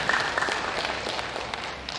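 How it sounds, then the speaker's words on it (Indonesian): Applause from attendees at a Jakarta deputy governor's dialogue with a national regional-organization council, quiet and fairly distant, a soft wash of many hands with a few sharper claps standing out. "Tepuk tangan dulu buat beliau."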